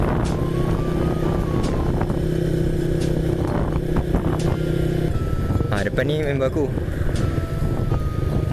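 A friend's motorcycle runs along a road during a leisurely ride, its engine droning steadily beside the rider's own bike amid wind rush, with someone talking over it throughout.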